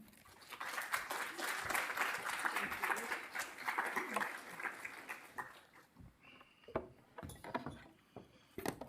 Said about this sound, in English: please give a round of applause for Glenda